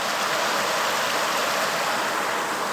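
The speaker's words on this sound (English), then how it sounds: "And it drops off into a cool waterfall." A mountain stream in the Wind River range pours into a waterfall, a constant dense rush of water heard close and loud without any break.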